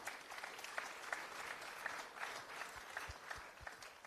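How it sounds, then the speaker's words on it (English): Steady, fairly distant applause from the crowd at a Supercars Championship season launch as drivers are introduced, with a dense, even texture throughout. "Give them a round of applause, please"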